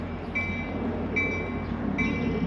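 A train arriving at a station, a steady rumbling rail noise that fills the whole clip, with three brief high tonal squeals or horn-like notes recurring on top.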